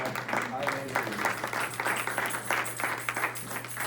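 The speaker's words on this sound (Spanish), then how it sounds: "Denle un aplauso al Señor." A church congregation claps together during a Spanish-language service, the rhythmic claps moderately loud over a steady low hum, and a faint voice is heard underneath.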